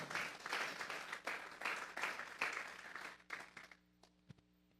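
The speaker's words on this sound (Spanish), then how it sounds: "Vamos a darle un fuerte aplauso pues al Señor." A congregation at a Sunday afternoon church service claps together in a dense burst of applause that pulses briefly before tapering off into near silence within a few seconds.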